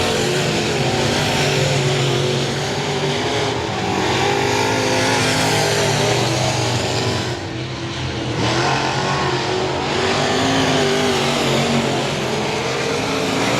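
Race cars roar around the I-37 Speedway oval during a regular race program, engines loud and continuous as they lap near the final laps, with a brief dip in level around the middle before the roar returns.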